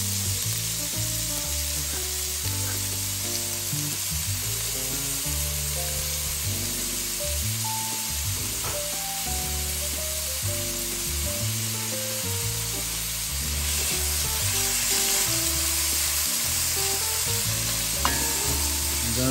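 A medium onion sautéing in hot oil in a pan for pork asado, with a loud, constant sizzle and a low tonal hum running beneath it.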